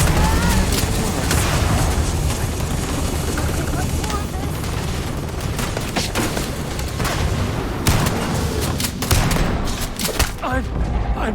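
Gunfire in a Starfield firefight, dense bursts of shots and booms overlapping in a chaotic barrage, with voices talking over the continuous shooting.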